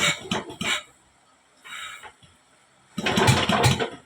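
A boat engine is cranked a few times in quick bursts but fails to catch, with short sputtering pulls separated by pauses.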